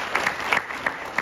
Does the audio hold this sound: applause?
yes